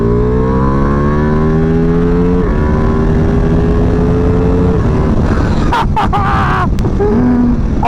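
Ducati Multistrada V4 Pikes Peak, a 230 kg motorcycle with a V4 engine making 180 hp, pulling hard on a mountain road: loud, close engine roar rising in pitch through several quickshifter upshifts, each gear change a brief dip before revs climb again.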